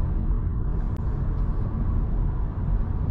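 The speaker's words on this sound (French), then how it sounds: "Vous pouvez entendre en ce moment le moteur, comment il tourne." A new Honda Jazz engine runs steadily at idle from inside the car, a continuous low rumble with a faint broadband hum and one brief click, no talking.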